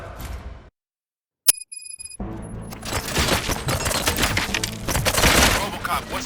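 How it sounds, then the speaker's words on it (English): Gunfire erupts in the video game RoboCop: Rogue City: after a short silence and a sharp crack, a loud dense fusillade of rapid shots continues steadily to the end. "Gunshots? What's going on?"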